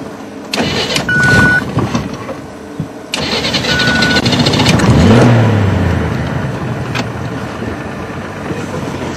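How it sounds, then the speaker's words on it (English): Safari vehicle engine cranks and starts, then idles and revs gently as the vehicle turns, a close, loud, steady rumble with a brief rise in the middle. "I'm going to just turn the vehicle a little bit."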